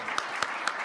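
Audience applause at a Canadian Club luncheon talk, faint and brief, with a few distinct sharp claps standing out over a soft patter of hands.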